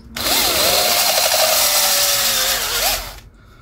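A power drill whirs loudly and close for about three seconds, its pitch wavering as it bites into material, then winds down to stop.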